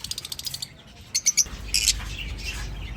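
Lovebird breeder pairs chirping in their cages, a few short high tweets and quick chirps over a brief span, close and moderately loud, with a low background rumble and no talk.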